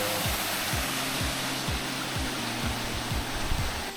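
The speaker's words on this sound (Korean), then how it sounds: "여기가 폭포야? 폭포 소리." Steady rushing water noise from Towangseong Falls in Seoraksan fills the scene, a broad continuous roar of falling water, with faint low thumps recurring beneath it.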